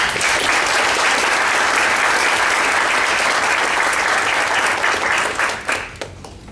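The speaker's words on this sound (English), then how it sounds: "Let's give them a round of applause." Sustained audience applause at a county Republican Party meeting, a full steady roar of clapping from many people that holds evenly for several seconds before tapering off into scattered claps at the end.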